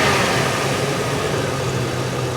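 A Chevy Suburban engine runs steadily and loudly up close, with a low droning hum that lifts slightly as the throttle is snapped, continuous for a couple of seconds with no talking.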